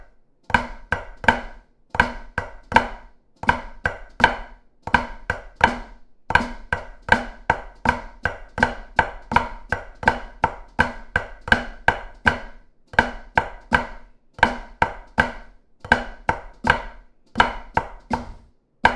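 Flam taps practised on a drum, crisp grouped strokes with paired grace-note attacks repeating in a steady, fast rhythm, loud and close throughout with no talk.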